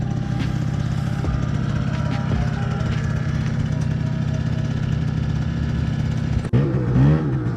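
A liquid-cooled Yamaha Zuma YW50 50cc scooter engine drones steadily and close, with a slight rise in pitch near the end and a brief voice at the close.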